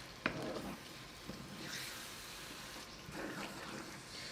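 Rougail saucisse mixture being gently stirred in a pan, a low steady sizzle with soft scraping and stirring swishes, faint and close.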